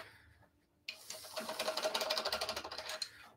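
A screw chuck is unwound from a wood lathe while a zebrawood bowl is being turned, making a quick burst of rapid, rattling metallic ticks after a brief quiet start, fairly faint and with no talking.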